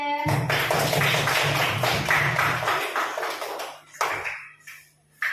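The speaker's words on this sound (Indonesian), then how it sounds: "Tepuk tangan kelompoknya Mbak Najwa." A classroom group gives a burst of applause, many hands clapping together loudly for about four seconds before fading into scattered claps and a few voices.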